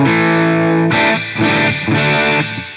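A distorted electric guitar plays sustained chords through a Fender Blackface amp simulation in Guitar Rig software, with a bright, slightly brash tone, restrikes coming in a few strong bursts.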